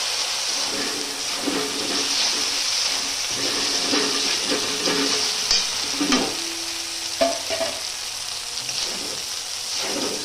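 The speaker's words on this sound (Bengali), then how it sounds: "আদা রসুন বাটা দিয়ে আবারও ভালো করে কষাচ্ছি" Ginger-garlic paste is sautéed with fried onions for mutton curry, with a splash of water added, giving a loud, steady sizzle and bubbling with frequent stirring scrapes of a spatula against the pot.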